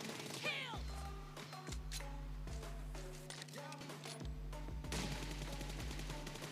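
Gunfire in the mobile battle royale game PUBG Mobile during a 1 vs 2 fight comes as repeated bursts of shots over continuous game sound effects and a low background drone.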